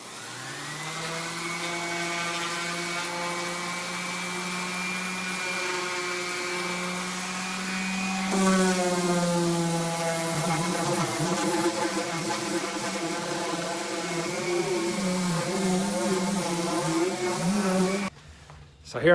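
A steady mechanical whine of a power sander working 2x4 lumber nearby, its pitch shifting partway through, then it cuts off near the end.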